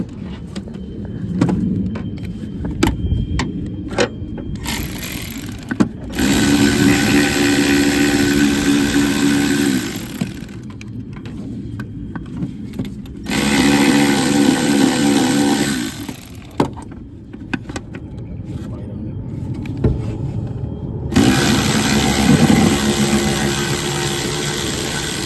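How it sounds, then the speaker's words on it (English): An electric ratchet with a long 10 mm socket works on the bulkhead connector of the main wiring harness during dashboard removal on a 1994-1997 MN12 car. It whirs loudly and nearby in three separate bursts, with quieter pauses between them. "So I'm going to come in here with a long 10 and my electric ratchet."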